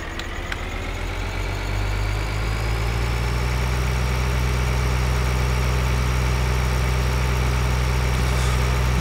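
Tractor engine idling in Farming Simulator 2013, a steady, loud low rumble with a constant drone that holds unchanged throughout, with no voices.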